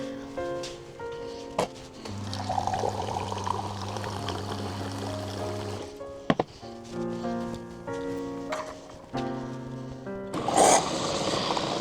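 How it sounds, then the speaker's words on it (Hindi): Water and coffee pouring from a machine at an office seat, a steady stream with gurgling running for several seconds, broken by brief clicks and a final splash, with quiet background noise. "पहले मैं इधर से लेता हूँ पानी और कॉफ़ी।"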